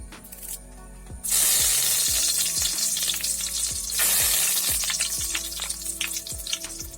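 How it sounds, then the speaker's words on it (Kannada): Cumin seeds and curry leaves hit hot oil for egg bhurji, bursting into a loud close crackling sizzle that surges again partway through over a regular low ticking, with no talk. "ಜೀರಿಗೆ ಹಾಕ್ತಿದ್ದೀನಿ ಅರ್ಧ ಟೀ ಸ್ಪೂನು. ಕರಿಬೇವಿನ ಸೊಪ್ಪು ಹಾಕ್ತಿದ್ದೀನಿ"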